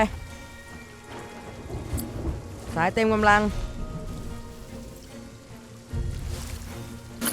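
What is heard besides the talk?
rain and thunder in the video game Sea of Thieves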